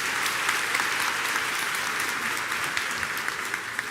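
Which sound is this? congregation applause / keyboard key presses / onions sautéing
congregation applause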